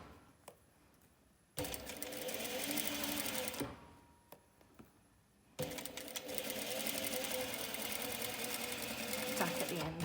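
A sewing machine runs a straight seam for a run and fell seam: a steady mechanical whir that starts after a quiet moment, pauses briefly, then resumes as a long continuous stitching run, close and fairly loud.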